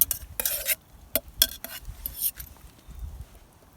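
A metal fork scrapes and clinks against a chili pot in a series of short, sharp, uneven scrapes and taps close by, with quiet rustling between them.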